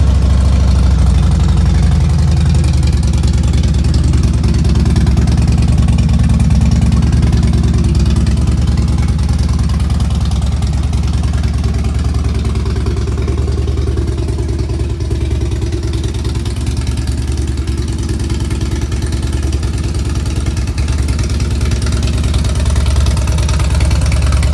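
A 2009 Harley-Davidson Fat Bob with a Vance and Hines 2-into-1 performance exhaust idles steadily with a deep, throbbing low rumble, loud and close, continuing without pause for the whole stretch.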